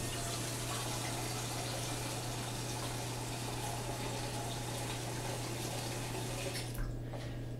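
Water runs steadily from a kitchen tap into a cooking pot, a continuous, even rush that stays level and fairly faint throughout, with no talking over it.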